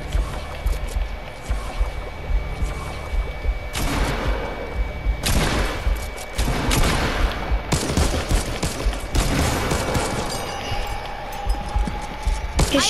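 AR rifle fire in a zombie shooter video game, with repeated loud bursts of rapid shots and scattered single cracks over a busy, noisy game background, close and punchy.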